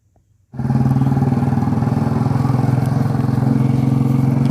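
A motorcycle, a UK07 Chancellor, starts up after near silence and settles into a loud, steady, close idle with a fast even pulsing thrum that continues to the end.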